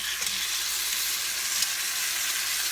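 Osso buco sears in a brand-new pan, a steady close sizzle of frying meat with broad hissing crackle running unbroken and fairly even throughout, no voices.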